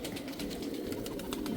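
Old racing pigeons at a rooftop loft give soft, low cooing that murmurs steadily at moderate distance, blended with a faint background hiss and no voices.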